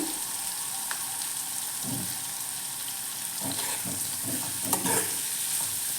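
Onions frying in a pan over a raised flame, a steady broadband sizzle with intermittent stirring scrapes and clatters, close and fairly loud, no talking.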